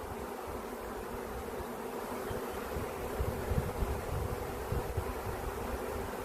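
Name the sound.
swarm of bees around the hive frames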